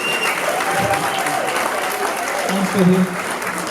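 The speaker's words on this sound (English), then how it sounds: "A round of applause for Betty, please." Wedding reception guests break into a round of applause for the woman who baked the cake, a dense, close wash of clapping with a voice speaking over it.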